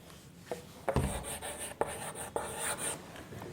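A pen scratches across paper as an answer is written out for a class six English grammar exercise, a few short strokes and taps, close and soft, with no talking.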